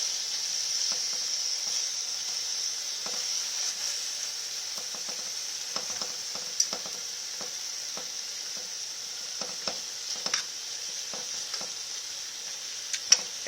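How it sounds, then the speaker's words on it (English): Thick-cut meat frying in a pan for Cajun gravy, a steady high sizzle running throughout with scattered small pops and crackles, close and moderately loud, no talk. "Let it fry a little bit longer."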